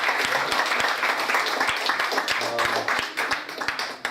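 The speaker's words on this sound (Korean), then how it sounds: "박수로 환영하겠습니다" At a wholesalers' association year-end gathering, the audience claps to approve the chairman's second term, a steady indoor round of applause with a few sharp claps and faint talk in the room.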